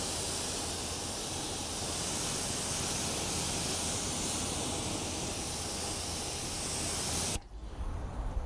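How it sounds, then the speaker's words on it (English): Water spray rinsing dirt and grime off a car tire, a loud, continuous close-up hiss that runs steadily for about seven seconds and then cuts off abruptly. "the next thing I'm gonna show you guys is actually rinsing off this dirt and grime"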